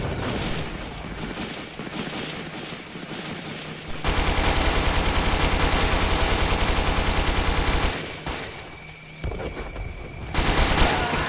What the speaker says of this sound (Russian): Там катер стреляет.